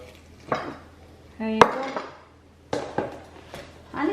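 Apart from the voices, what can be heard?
cutting roast chicken (lechon manok) on a plate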